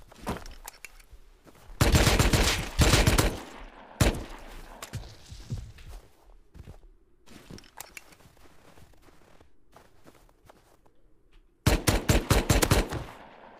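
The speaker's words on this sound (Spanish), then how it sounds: "Me disparan." Automatic gunfire in the survival game Rust, loud rapid bursts at the start, a lone sharp shot, scattered thuds and steps, then another heavy burst near the end.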